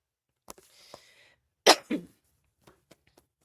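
A person coughs sharply twice in quick succession, close by, amid faint breathing and small rustles.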